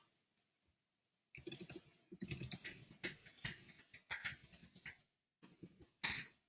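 Fingers tap away on a computer keyboard in uneven bursts of close, quiet clicks with short pauses between them.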